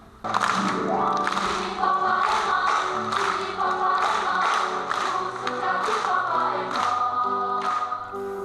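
A Taiwanese Bunun children's choir sings its clapping song, with steady, evenly spaced hand claps punctuating the bright voices throughout.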